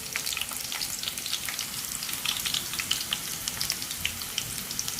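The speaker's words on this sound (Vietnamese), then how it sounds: "chúng ta chiên vàng như thế này là được nè các bạn nha" Oyster mushrooms deep-frying in hot oil for a crispy vegetarian dish, giving a steady, dense crackling sizzle that runs close and unbroken throughout, with no voices.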